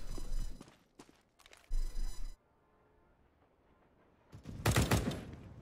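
Gunfire in a competitive online shooter match: two short volleys of rapid shots, then a quiet stretch, then a louder burst of close shots near the end, with no talk.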